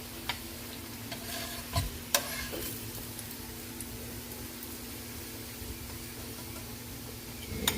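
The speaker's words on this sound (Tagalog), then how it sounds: "Check natin kung luto na yung ating pritong liempo" Pork belly (liempo) frying in oil, a soft, continuous sizzle with a low hum beneath and a few sharp pops and clicks, fairly quiet and close.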